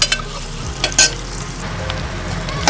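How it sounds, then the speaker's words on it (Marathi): Boiled eggs fry crisply in oil with red masala, a close continuous sizzle with a few scraping strokes and clinks of a spatula against the pan. "यात थोडा लाल मसाला ऍड करून आपण हे असं फ्राय करून घेऊया"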